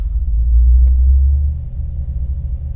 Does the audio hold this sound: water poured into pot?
no